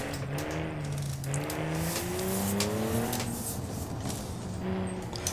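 A Crown Model 1 GT3-style race car with a six-speed manual gearbox drives in BeamNG, its engine droning and rising and falling through the revs as it accelerates and shifts, loud and steady, with no voices.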